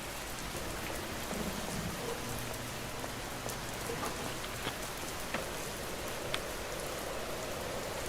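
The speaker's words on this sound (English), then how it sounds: "you don't want to be skateboarding in the rain" Steady rain pours down in a video game while skateboarding, a dense, even hiss with scattered drops and faint low rumbles running through the whole stretch without talk.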